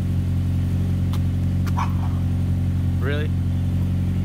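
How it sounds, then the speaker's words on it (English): A Honda S2000's steady low engine rumble idles continuously outdoors as it warms up, with wind, brief clicks and a short spoken remark over it. "hopefully you can hear me over the wind and the car warming up in the background"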